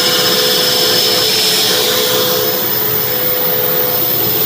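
A central vacuum cleaner fitted with mufflers, a cyclonic unit, runs with a loud, steady whooshing roar that stays constant throughout, with no talk.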